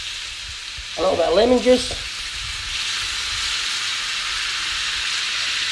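Fish fillet sizzles skin-side down in butter in a hot pan, a steady close frying hiss running throughout, with a brief spoken phrase near the start.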